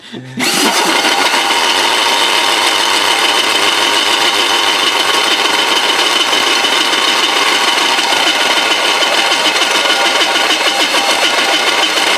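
A handheld drill grinds steadily into metal after a brief start, a loud continuous whining roar with no pauses.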